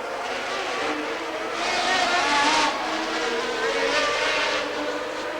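Formula 1 cars, including two Williams and an Alfa Romeo, racing at the Monaco Grand Prix in Monte Carlo: a continuous high engine whine that swells and fades as cars pass, heard from a distance with no talking.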